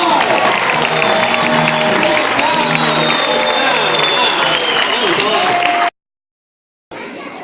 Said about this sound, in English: Let's give our cast a round of applause.